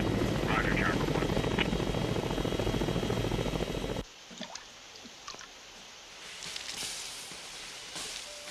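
Police helicopter rotor roar, loud and dense for the first four seconds, then cutting away to a quieter scene with scattered faint sounds.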